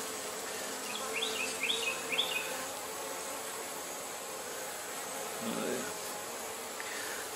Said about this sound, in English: and a lot of bees in there.